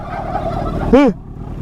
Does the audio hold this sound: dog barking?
no